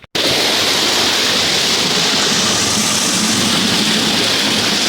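A tubewell pump switched back on after a power cut sends water gushing out in a loud, steady roar after a brief silent start, continuing unbroken.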